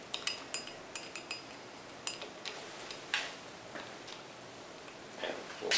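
Metal bolts handled during brake adjustment on a Demag hoist motor: scattered light clinks and ticks, some in quick clusters, close but fairly quiet against a low room hiss.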